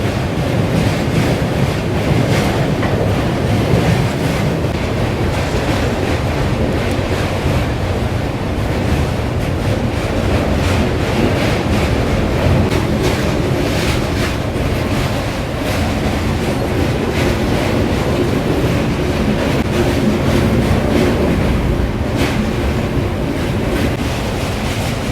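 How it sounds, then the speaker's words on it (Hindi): The 19313 Indore Patna Express crosses the Rajghat double-decker rail-cum-road bridge, a steady, loud roar of wheels and rushing wind heard from on board, unbroken and without voices. "इस वक्त हम राजघाट पुल को क्रॉस कर रहे हैं, जो कि एक डबल डेकर ब्रिज है, या कहें रेल कम रोड ब्रिज है।"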